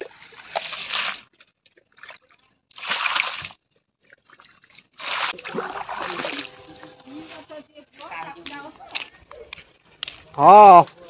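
Water from a bucket is poured and splashed onto a newly planted jamun tree during tree planting. Several separate bursts of splashing and trickling come in short pours, with pauses between them, and a voice speaks between the pours.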